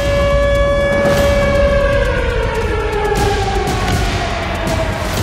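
A loud civil defense siren in Russia, sounding during a nuclear war drill, wails steadily, its tone slowly falling in pitch over a rumbling background.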